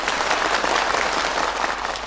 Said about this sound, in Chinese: 哎，赶快掌声有请黄慧。